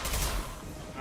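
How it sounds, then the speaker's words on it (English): A brief, loud burst of gunfire in Mass Effect Legendary Edition, a dense wash of shots filling about a second. "Incoming! I'm taking fire."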